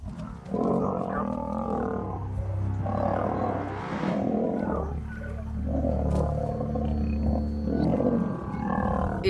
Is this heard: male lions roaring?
yes